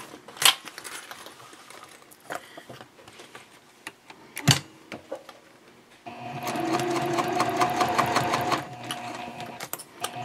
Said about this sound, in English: I will be basting and top stitching 1/8 inch away from the edge